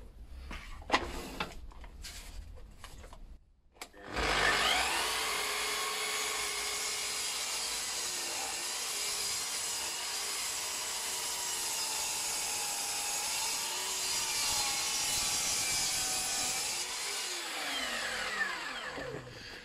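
Wooden shelves being sawn to length with a power saw: after a few short knocks, a steady loud cutting whine runs for about fifteen seconds, then winds down near the end.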